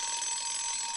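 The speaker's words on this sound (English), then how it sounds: "I like the alarm, though" An alarm clock rings at the end of a talk show, a loud steady electronic beeping tone that sounds alone and without pause.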